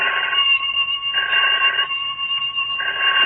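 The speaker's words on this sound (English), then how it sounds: "Well, Swan, a feller can't sit down for 5 minutes without that dead-blamed telephone ringing." Old-fashioned telephone bell in a radio drama, ringing in three loud, close bursts separated by short pauses, with no voices.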